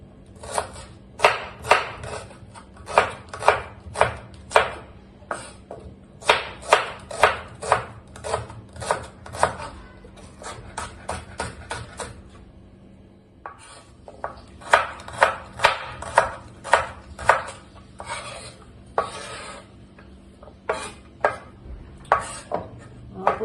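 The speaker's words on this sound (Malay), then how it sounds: "Kita potong bawang dulu ya. Saya guna bawang kecil." Small onions (shallots) being chopped with a knife on a board, a long run of quick, crisp, evenly spaced cuts in bursts with a short pause midway, close and clear.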